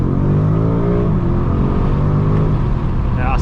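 A 2021 BMW M5 Competition LCI with 625 hp pulling hard in first gear, its loud engine note rising steadily with deep layered harmonics from inside the cabin, then a brief shift.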